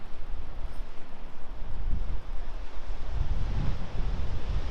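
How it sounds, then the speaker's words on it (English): Ocean waves crash on the rocks far below Bixby Creek Bridge in Big Sur, California, a broad roar that swells and ebbs, mixed with gusts of wind buffeting the microphone. "Look at the waves crashing in."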